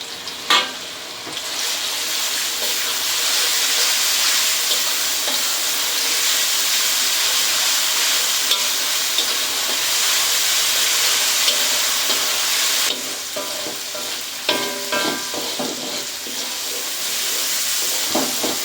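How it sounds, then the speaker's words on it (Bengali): Onion paste and garlic paste frying in a pan while cooking broiler chicken with tender bottle gourd, a loud continuous sizzle lasting throughout with occasional stirring clatters and scrapes. "পেঁয়াজ রসুন ভাজা হয়ে গেছে"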